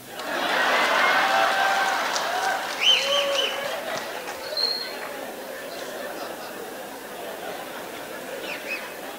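A crowd at a political rally claps in a broad burst that swells early and slowly thins over several seconds, with scattered voices and faint chirps mixed in.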